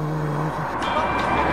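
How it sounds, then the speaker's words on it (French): Cars passing by on a road outside, a low rumbling traffic swell with passing engine noise, moderately loud and close, mixed with someone talking nearby. "vous allez m'entendre comment avec toutes les voitures qui passent"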